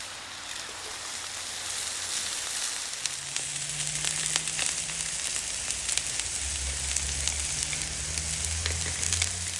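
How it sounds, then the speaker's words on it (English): Zucchini sizzles steadily on a Blackstone griddle, a dense, even frying hiss filling the scene from start to finish with faint crackles and a low rumble underneath. "I'm going to go ahead and put the zucchini down on the other side of the griddle"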